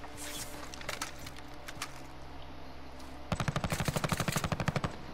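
Video game gunfire, with scattered distant shots and rumble followed by a loud, rapid burst of automatic fire lasting about two seconds near the end.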